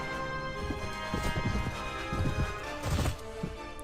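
Horse hooves in the Mount & Blade: Warband video game, repeated clip-clop thuds in bursts beneath a constant droning game soundscape, moderately loud with no talking.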